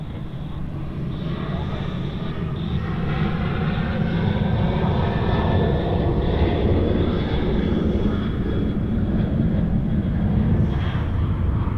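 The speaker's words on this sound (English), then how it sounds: "the Qantas Retro Roo heading off to Brisbane as QF504 is now rolling down runway 34 right" A Qantas airliner in Retro Roo livery rolls down runway 34 right at Sydney Airport for takeoff, a loud, steady engine roar with a whining tone that holds throughout.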